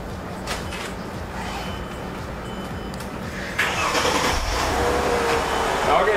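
A car engine cranks and catches to a steady idle midway through, started with an AUDEW jump starter; quiet mechanical noise before gives way to a louder running rumble, close by.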